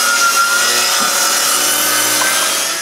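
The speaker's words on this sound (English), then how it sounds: "Next, he cuts the excess wood on both sides." A power saw cuts away excess wood at the edge of a deck being restored, a loud, continuous whining buzz held close and steady throughout with no speech over it.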